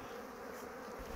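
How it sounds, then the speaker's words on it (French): Honeybees buzz steadily around an open beehive as frames are lifted out, a dense continuous hum filling the whole moment with no voices. "Voilà, on a nos abeilles."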